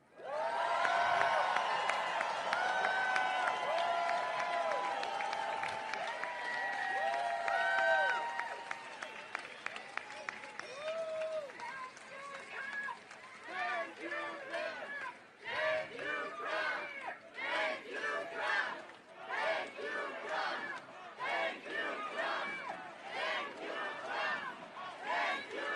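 An event crowd breaks into loud, sustained applause and cheering that swells and then fades, followed by a mix of broken clapping and shouting voices from a large audience at a distance.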